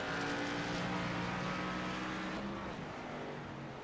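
A race car powers out of the final chicane at the Charlotte Roval road course, its engine droning loud and steady with a slight pitch shift as it accelerates away, alone without talk.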